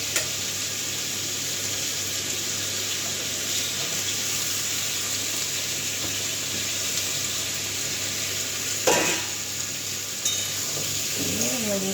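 Onion, tomato and ginger-garlic paste sizzle steadily in a hot pan, a continuous frying hiss with brief stirring clatters near the end.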